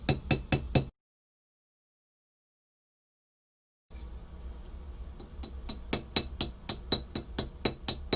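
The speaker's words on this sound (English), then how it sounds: "go ahead and just hammer a few times, turn it 90 degrees, and hammer again" Hammer strikes on a wire rivet in an artist's metalwork: a quick burst of four sharp, close metallic taps, a pause of silence, then a steady run of repeated crisp blows with bright clinks.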